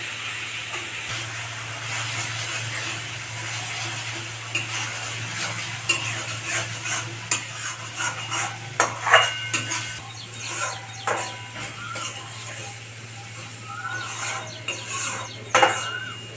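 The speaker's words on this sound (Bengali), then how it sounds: "এবার এইটা এবার কষাবো।" Pointed gourd curry with Kashmiri chilli sautéing in a pan makes a continuous low sizzle, with a burst of quick spatula scrapes and clinks against the metal in the middle and a steady hum beneath.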